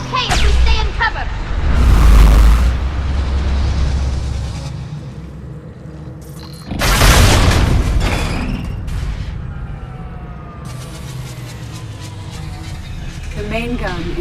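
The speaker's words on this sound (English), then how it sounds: "Watch the shockwaves! That's a big gun!" A huge gun fires in Mass Effect 3, sending out shockwaves: two heavy booming blasts with a roaring rumble, mixed with mechanical whirring and voices talking.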